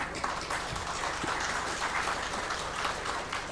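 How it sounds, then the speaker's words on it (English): An audience at an investors' meet in Imphal claps in steady, moderately distant applause that keeps going without a break. "let's welcome Mr. Sanjeev Bashin with a big round of applause"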